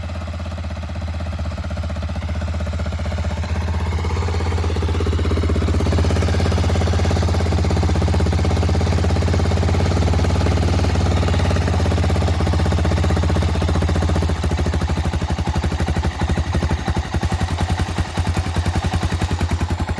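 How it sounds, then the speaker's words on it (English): Honda TRX 350D ATV engine running at a fast, high idle close by, a steady low drone with a rapid pulsing chatter that gets rougher toward the end. "some reason it was idling a bit high then"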